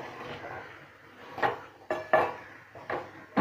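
Chopped tomato being stirred into a green bean and potato curry in a pan, with a spoon scraping and knocking against the pan in a few irregular strokes, close and moderately quiet.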